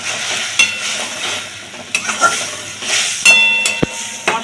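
Ginger paste, green chilli and turmeric sizzle in a pan of spices while a spoon stirs, giving a hissing fry broken by sharp scrapes and clinks at irregular intervals, close and fairly loud.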